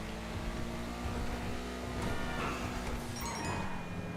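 A BMW M2 (Cypher) in GTA 5 Online drives fast, its engine a continuous loud roar with a slight rise in pitch as it speeds along.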